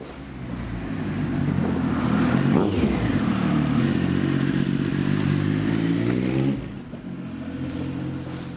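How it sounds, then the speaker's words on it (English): A 2004 Triumph Speed 995i motorcycle engine runs steadily close by, its loud, even drone rising and falling slightly with a brief dip near the end, and no one talks over it. "So here it is, my 2004 Triumph Speed 995i, and this is going to be the base of my little project"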